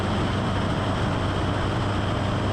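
Seaplane engine throttled back to 3,300 rpm during water landing practice, a steady loud droning roar with constant rumble and no pauses.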